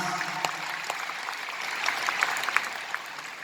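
An audience applauds a trio of performers at a live show: a steady, dense patter of clapping at moderate volume throughout, with no voices standing out.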